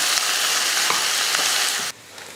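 Steady sizzling and frying in a pan, loud and close, with faint stirring scrapes, cutting off abruptly near the end.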